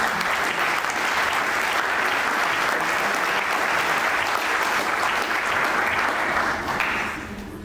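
A large audience at a formal university ceremony claps loudly and continuously, a thick, even roar of applause that holds for several seconds before tapering off at the end.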